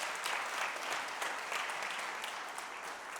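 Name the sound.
audience applause for school staff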